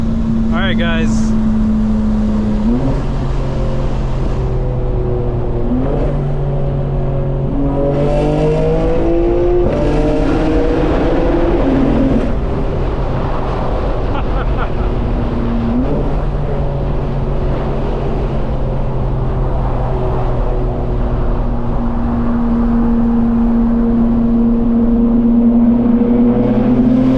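A 2025 BMW M4 Competition xDrive on launch control, its engine loud and close with rising and falling rev sweeps and sharp shifts as it pulls hard, a continuous aggressive roar throughout.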